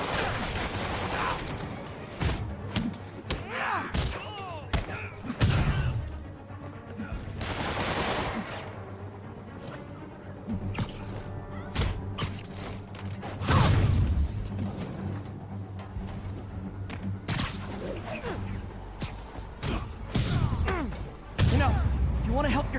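Bursts of gunfire from armed enemies during combat in the Spider-Man PS4 video game, crackling repeatedly amid thuds, impacts and music, with voices talking over the action.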